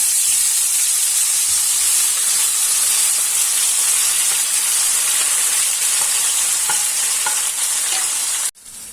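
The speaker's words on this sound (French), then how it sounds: "Je garde la même huile, hein, vous voyez. Je vais rajouter les oignons." Onions frying in hot oil for a fish yassa, a loud dense hiss and sizzle running steadily for several seconds with faint stirring clicks, cutting off abruptly at the end.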